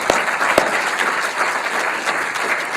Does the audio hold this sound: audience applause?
yes